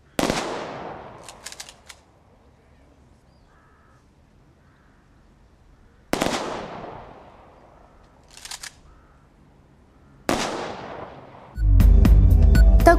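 Gun salute at a war memorial ceremony honouring Second World War soldiers: three sharp volleys spaced several seconds apart, each decaying into an echo with crows cawing between them, followed by a loud burst of music.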